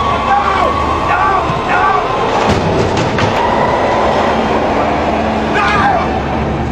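A subway train rumbles and clatters through a station in a 2006 film scene, a steady, loud rolling rush with bright metallic squeals and clicks, with voices heard under the noise.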